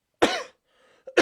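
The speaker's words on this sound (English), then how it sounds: "I don't know why I'm coughing." A man coughs twice in a small room, one short harsh cough, a brief faint breath and then a second cough, close and loud.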